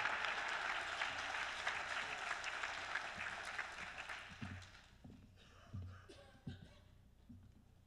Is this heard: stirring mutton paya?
no